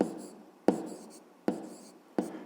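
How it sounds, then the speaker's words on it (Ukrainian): Pen writing an answer to a fifth-grade math problem on paper: four short, distinct strokes at a steady pace, close and quiet, with brief scratchy taps between them and no speech. "Записуємо тоді відповідь"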